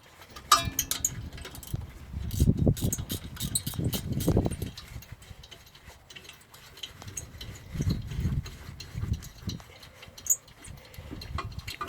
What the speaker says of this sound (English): Now, undoing your two bolts. They're 12mm.